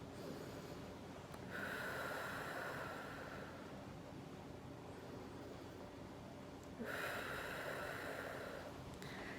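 Diaphragmatic breathing in through the nose: two long, airy nasal inhales a few seconds apart over a steady low background hiss, with no talking.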